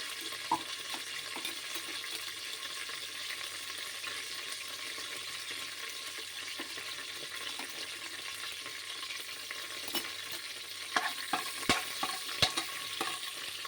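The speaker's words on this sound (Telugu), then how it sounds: "ఈ అల్లం వెల్లుల్లి పేస్ట్ పచ్చివాసన పోయే వరకు వేయించాలి" Ginger garlic paste frying in a pan for vegetable biryani, a soft continuous sizzle hissing steadily with occasional small pops and clicks of stirring, quiet and close with no voices.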